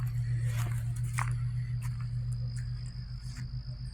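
Frogs in a pond on a homestead make a steady, low, pulsing chorus, with faint higher chirps and rustles over it and no talking.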